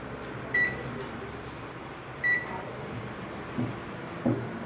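A microwave oven runs with two slices of bread inside, giving a steady low hum with a few brief, faint clicks and soft tonal blips along the way.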